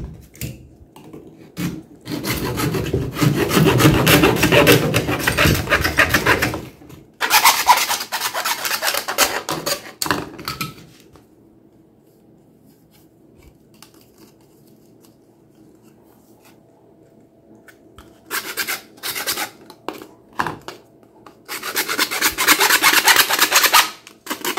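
A length of PVC pipe wrapped in aluminium foil is cut into a 10 cm piece, giving bursts of rough, rasping sawing strokes. They run loud and close for several seconds, stop during a quiet pause, then resume near the end.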